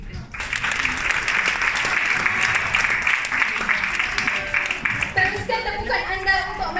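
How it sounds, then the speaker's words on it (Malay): Audience applause for Ju at a success-story sharing event: a thick, even burst of many hands clapping that holds for about five seconds, then thins as voices and tonal sounds take over near the end. "Berikan tepukan kepada Ju."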